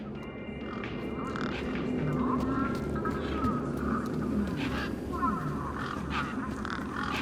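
Birds squawk and caw over a steady dense background in the video game Beyond a Steel Sky, with calls scattered throughout at moderate distance.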